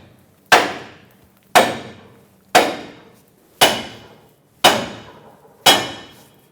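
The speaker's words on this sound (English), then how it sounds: "Hit the knuckle with a hammer here and here." Six sharp, evenly spaced metallic hammer blows strike the steering knuckle of a 2003-2009 Dodge Ram 2500 during an upper ball joint replacement, each ringing briefly before decaying, close and loud with no talking.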